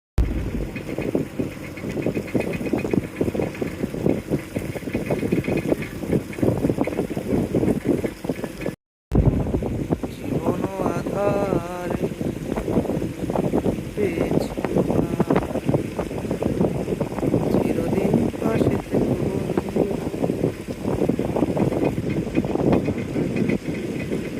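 A trawler boat's engine drones steadily on a river in the Sundarbans mangrove forest, with wind buffeting the microphone throughout and a brief dropout near the start.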